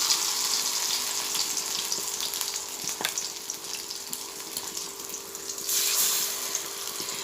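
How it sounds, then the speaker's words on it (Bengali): Pumpkin-leaf and fish-belly fritters frying in hot oil, a dense continuous hiss and crackle that stays close and steady throughout, with one sharp tap midway and a brief louder surge near the end. "আরও কয়েকটা ভেজে নিচ্ছি"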